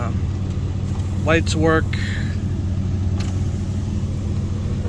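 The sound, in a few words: Lincoln Mark V car engine running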